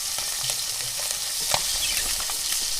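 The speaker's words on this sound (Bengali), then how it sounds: "ভেজে নিচ্ছি মাছগুলো" Fish frying in a pan on a clay stove fed with firewood: a loud, continuous, dense sizzle with scattered crackles and soft stirring knocks close by.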